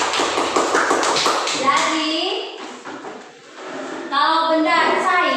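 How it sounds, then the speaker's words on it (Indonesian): Children in a classroom clap their hands in a quick burst of rapid claps, followed by children's and teacher's voices talking. "Kita tepuk tangan untuk kita dulu."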